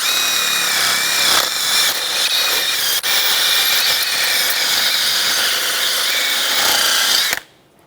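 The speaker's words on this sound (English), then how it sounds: "Now I'm going to clean this up with a wire brush." A loud, continuous whirring grind of a power-driven wire brush scrubbing a 2009-2013 BMW 328i xDrive front brake hub runs steadily for several seconds, then cuts off abruptly.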